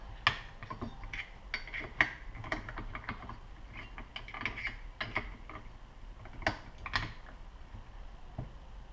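Cranking down the clutch of a Stihl FS55 string trimmer with the starter rope left in the engine: rapid metallic clicks and ratcheting taps in irregular bursts, close and moderately loud, with no talk.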